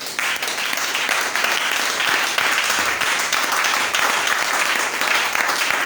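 Steady, dense applause from a church congregation acclaiming Christ during a French-language sermon, a continuous wash of clapping hands at even loudness for several seconds with no voices over it.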